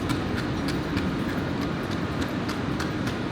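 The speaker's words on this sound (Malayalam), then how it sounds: "അപ്പോൾ ഇതാണ് നമ്മുടെ ട്രെയിൻ ഫ്യൂസൻ." Steady rumble and rhythmic clatter of a train carriage heard from inside on the way to Füssen in Germany, a continuous close roar with faint periodic clicks from the wheels. No talking.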